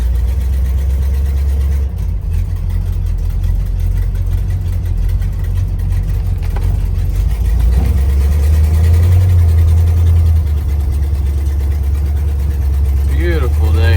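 A 1969 Pontiac GTO V8 rumbles steadily at close range as the car pulls out of a shop in Florida, with a deep, constant engine drone throughout and a voice talking over it.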